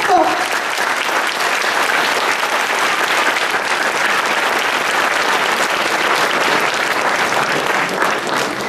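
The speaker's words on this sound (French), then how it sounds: "Je vous demande de l'applaudir très fort." An audience at a 30th-anniversary celebration in Plouénan, France, gives loud, sustained applause, a dense and unbroken roar of clapping that holds for the whole stretch.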